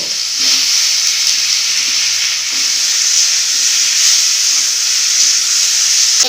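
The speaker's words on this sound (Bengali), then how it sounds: "তেল গরম হয়ে গেছে এবারে দিয়ে দিব পাঁচ ফোড়ন শুকনো লঙ্কা দেবো" Panch phoron spices and dried red chillies hit hot oil for a sour pumpkin and tomato dish, giving a loud, steady, close hiss and sizzle throughout.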